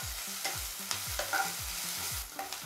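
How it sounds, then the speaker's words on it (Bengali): Ginger-garlic paste fries with chopped onion and green chilli in a pan for potato samosa filling, a steady close sizzle with occasional stirring scrapes over a soft, regular background beat. "আদা রসুনটা একটু ভেজে নেব।"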